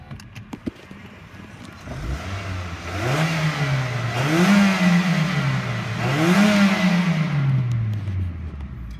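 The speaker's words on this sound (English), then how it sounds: "Let's go ahead and listen to the engine." A 2002 Toyota Corolla LE engine idles, then revs up twice in smooth swelling bursts before settling back, heard close with no talking.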